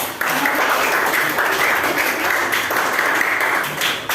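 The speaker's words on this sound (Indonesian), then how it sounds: "Oke, tepuk tangan dulu untuk" A classroom of students claps together, a dense, even burst of applause that holds for about four seconds before tapering off.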